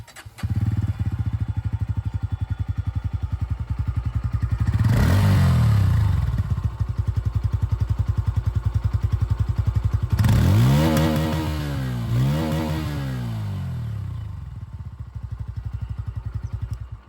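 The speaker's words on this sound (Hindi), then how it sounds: "यहाँ पर दोस्तों आप लोगों को ये अंडरबिल एग्जॉस्ट मिल रही है, तो आवाज़ इसकी भी आप लोग सुन लीजिए" A motorcycle with an underbelly exhaust idles with a steady throbbing burble, punctuated by a few sharp throttle blips that rev up and fall back.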